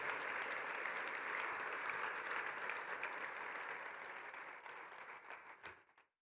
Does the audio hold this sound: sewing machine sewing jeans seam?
no